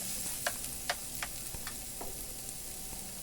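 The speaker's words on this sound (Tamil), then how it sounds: "இதெல்லாம் நல்லா பச்சை வாசனை போகிற வரைக்கும் நல்லா வதக்கிக்கோங்க." Tomatoes sautéing in a pan for chicken leg chukka, a steady close sizzle with a few sharp stirring scrapes and spoon ticks scattered through.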